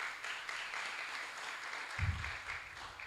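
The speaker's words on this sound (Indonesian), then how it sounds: "Tepuk tangan dulu." Church congregation applauding during a sermon to young people, a steady, dense wash of clapping that runs the full length with a low thump near the end.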